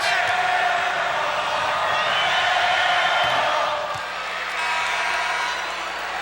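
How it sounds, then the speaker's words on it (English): A basketball arena crowd at a 1989 Orlando Magic versus Detroit Pistons game roars and chants air ball, a loud, sustained wash of many voices that swells and dips slightly. "Crowd calls air ball."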